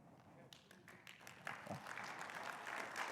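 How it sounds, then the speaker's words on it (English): Audience applause after a security conference talk on certificate authority trustworthiness, scattered claps building into steady clapping from a room of people, somewhat distant and quiet, with a voice faintly underneath. "It was that good, he got applause."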